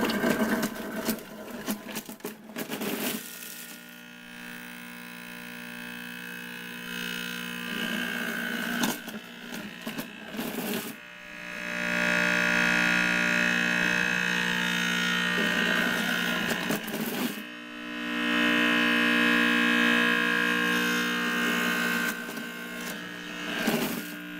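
A juicer machine crushes grapes and their seeds with a loud, grinding, rattling whir that surges and eases over time, with a few faint voices at times.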